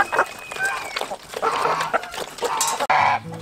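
Chickens cluck and chatter nearby in irregular bursts, with a busy farmyard clamor around them.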